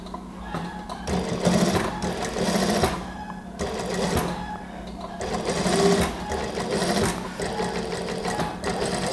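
A sewing machine stitching a zipper seam on a gamis dress with a Japanese zipper, a loud, continuous mechanical whirring and rattling that speeds up and slows down, with a voice speaking over it at times.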